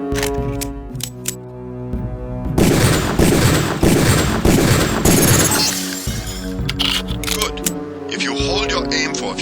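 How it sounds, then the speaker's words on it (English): Pistol shots fired at training targets in Deus Ex, a string of sharp cracks and breaking impacts over layered game music, loud and dense through the middle, with a voice talking over it. "Release the first target and take a few shots with one of the pistols until it is destroyed"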